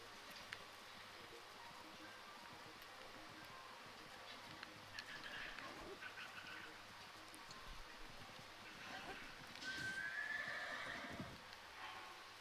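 A horse whinnies amid a busy game soundscape with faint hoof clops and a buzzing insect-like hum, the neigh rising clearly near the end.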